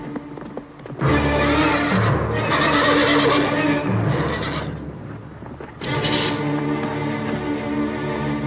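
A horse neighs loudly and repeatedly up close, with long, shrill whinnies rising and falling over several seconds amid faint hoof clatter.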